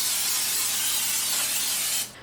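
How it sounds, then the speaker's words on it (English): Cooking spray hisses in one continuous close burst inside a crock pot for about two seconds, then cuts off abruptly. "I'm just going to spray the inside of my crock pot"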